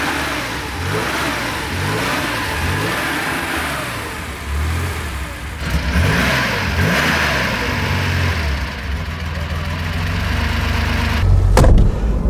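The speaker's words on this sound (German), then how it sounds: "Das ist so der klassische 911er Sound, wie ihn jeder kennt." A 1966 Porsche 911 SWB in original condition, its six-cylinder engine recently woken after standing for days, revs up and down repeatedly, close and loud, with a sharp blip near the end and no talking.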